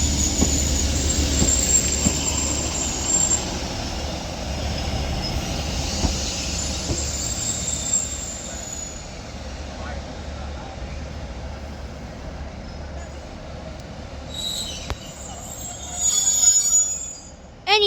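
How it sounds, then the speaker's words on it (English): Northern Class 156 diesel unit terminating at Manchester Oxford Road, wheels squealing loudly and steadily on the rails as it rolls in, with sharper squeals rising near the end. "as this Northern Class 156 terminates into Manchester Oxford Road now"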